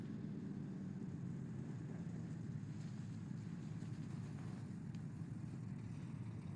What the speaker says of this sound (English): That must be the tow truck.